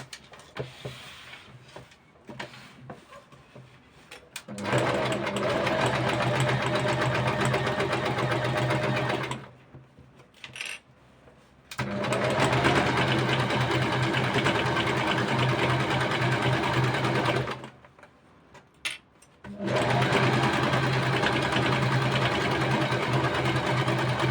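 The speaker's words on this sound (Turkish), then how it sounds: "Ve düz dikiş ayarında dikiyorum." A domestic sewing machine runs a straight stitch in steady, loud whirring bursts, stopping twice briefly between long continuous runs, with soft handling noise in the pauses.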